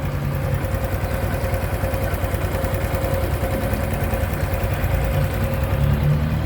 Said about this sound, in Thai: คันนี้ลองเครื่องนะฮะก่อนส่งมอบลูกค้านะครับนี่ เครื่องเงียบมาก